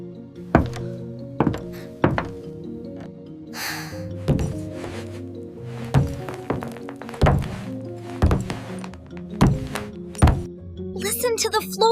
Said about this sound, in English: Someone is walking here.